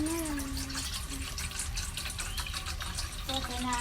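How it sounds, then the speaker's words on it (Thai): Steady running water splashes into a basin, a continuous broad rush with faint background tones throughout. "แล้วก็เทน้ำเปล่าลงไป เทน้ำเปล่าลงเลย"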